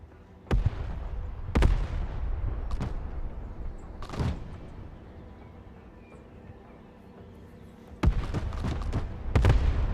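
Artillery rounds fire in the video game Broken Arrow as a few sharp, heavy booms spaced several seconds apart, each with a short rumbling tail over a low background.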